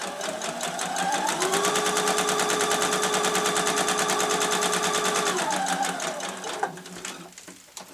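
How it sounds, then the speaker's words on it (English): Stitching a zippered, lined tote bag, a sewing machine runs in one long, steady, rapid whir close by, slowing and pausing briefly near the end with a few clicks as the needle pivots at a corner. "Then just sew up to the next corner, leave the needle down, pivot around, and across the next line."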